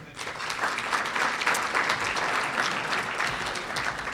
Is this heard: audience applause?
yes